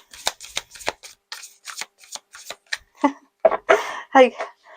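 Crisp riffling and slapping of tarot cards being shuffled repeatedly, close up, in quick irregular bursts with brief pauses between.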